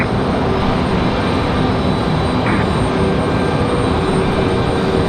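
An American Airlines Boeing 777 in One World livery at Raleigh-Durham International gives a steady, loud engine roar that holds unbroken as a broad, continuous wash of jet noise with no voices.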